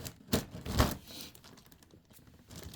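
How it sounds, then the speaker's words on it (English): Packaging tape on a Mondo Skeletor Masters of the Universe figure box is cut away in two sharp, close slicing crackles. Quieter rustling of the packaging follows. "I got to cut away some more tape here"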